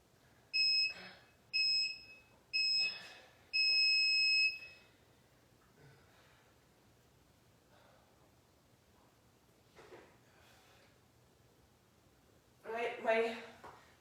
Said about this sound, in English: You don't have to wait for the buzzer.